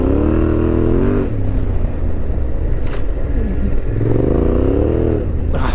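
A Yamaha Tenere 700 motorcycle engine under way, a loud, close, continuous rumble with rising and falling revs as the throttle opens and closes, wind noise mixed in.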